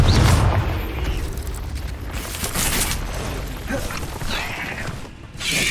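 Confringo spell explosion in Hogwarts Legacy, a loud blast with dense crackling debris that fills the whole stretch, followed by rumbling and mechanical clatter.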